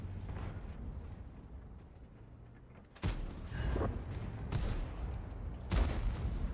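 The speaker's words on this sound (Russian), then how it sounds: "Выстрел, кстати, был мега охеренный." Cannon fire from a Centurion AX tank in a tank video game: heavy booming blasts, one near the middle and a second louder burst toward the end, over a steady rumbling background.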